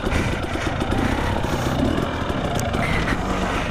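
A 2017 Husqvarna TX 300 dirt bike engine idles with a smooth, steady, mid-pitched drone, close and constant throughout.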